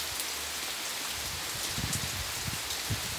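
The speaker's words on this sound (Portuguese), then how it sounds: "Olha a chuva." Steady rain falls and patters on surfaces outdoors, a soft, continuous hiss with scattered drops, heard alone.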